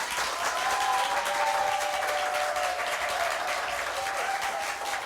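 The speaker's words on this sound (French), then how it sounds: "Encore une fois que je vous demande d'applaudir très chaudement." Dense, steady applause from an evening audience after a lively school quiz match, broad clapping filling the whole stretch at even loudness, with a faint tonal whistle-like line running beneath.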